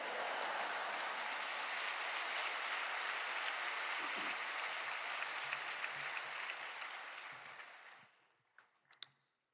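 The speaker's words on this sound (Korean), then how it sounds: "큰 박수로 성교사님 맞이하시겠습니다" A church congregation at a Friday evening service at Yoido Full Gospel Church gives loud, sustained applause to welcome a veteran missionary. The dense clapping fills the room for about eight seconds, then fades to a few scattered claps.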